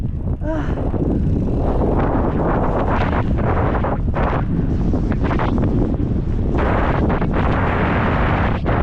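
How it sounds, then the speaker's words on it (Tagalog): Strong wind buffets the microphone during a cycling outing in Bahrain, a loud, continuous roar with gusting surges and brief lulls throughout. "Mahangin kasi."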